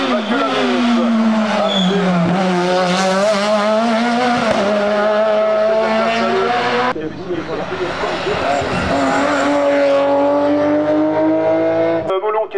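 A historic race car starts its hill climb run at the Bagnols Sabran course, the engine roaring and revving loudly through the gears under a commentator's continuous talk, with a brief gear-change break midway.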